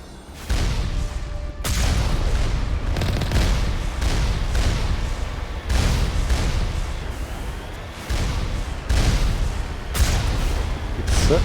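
Turrets firing in Mass Effect 1 Legendary during a Mako vehicle fight, a loud run of booming blasts and heavy shots repeating every second or two, with no talk.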